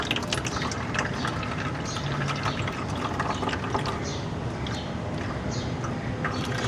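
Kitchen-waste fertilizer liquid strained through cotton cloth makes a steady, continuous pouring and trickling wash of water throughout.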